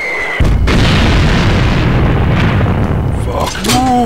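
A massive missile explosion in a video game bursts in with a sharp onset, then a sustained loud roaring rumble, with brief game sound effects near the end.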